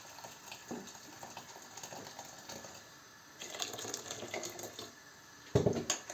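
Boiling water from a just-boiled kettle is poured over lard in a kitchen while making liver sausage, a faint trickling splash that grows busier midway and ends with a brief louder clink and splash.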